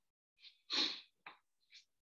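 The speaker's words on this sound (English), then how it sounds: "I'm gonna sneeze again" A single close sneeze from a lecturer during a university computer science class, a sharp loud burst preceded by a short breathy intake and followed by a couple of softer snorts and breaths.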